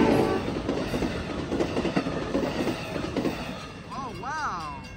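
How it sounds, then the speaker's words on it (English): An Amtrak Capitol Corridor passenger train rumbles and clatters steadily past the 105th Avenue grade crossing in Oakland, California, its rolling noise filling the clip, with a brief wavering tone near the end. "the Amtrak 527 Capital Corridor train going to San Jose"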